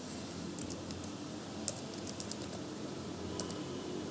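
Light, sparse keystrokes tap on a computer keyboard as a file name is typed, soft clicks scattered in quick clusters over a quiet room hum with no talking.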